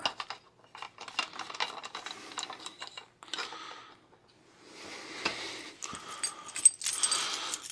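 Keys jangle in bursts while camera gear is handled on a desk, with clicks and metal scrapes between the jingles and short quiet gaps, close and fairly clear with no talking.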